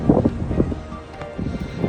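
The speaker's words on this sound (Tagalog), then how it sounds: "Malakas po ang hangin." Strong wind gusts roar and buffet the microphone during a snowstorm outdoors, a rough, rumbling noise that rises and falls throughout.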